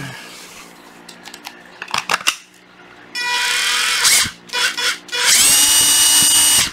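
A cordless Makita drill/screwdriver runs in short bursts, each a loud close-up whine that rises to speed and stops, after a few clicks and knocks of handling.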